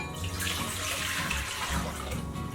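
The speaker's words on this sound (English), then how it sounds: "We're going to start with a saucepan, and we're going to add 4 cups of water" Four cups of water pour steadily into a saucepan in a kitchen, a continuous close splashing and gurgling stream that runs without a break and with no talk over it.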